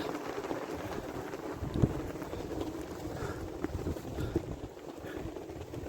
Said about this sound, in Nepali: चिसो हावा लाग्यो